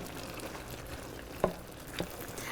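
Arugula is stirred into orecchiette pasta with mushrooms and tomatoes in a hot pan, giving a soft, steady sizzle with two brief scraping stirs, close and faint, with no voices.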